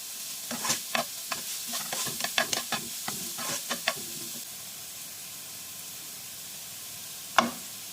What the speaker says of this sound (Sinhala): චුට්ටක් තෙල් හරියට අබ ටිකයි සූදුරු ටිකයි දාන්න බැදෙන්න.